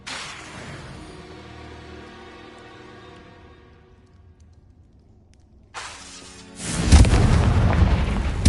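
A Confringo fire spell explosion in Hogwarts Legacy bursts in loudly near the end, preceded by a brief whoosh and followed by sustained rumbling debris, after several seconds of quiet fading game ambience.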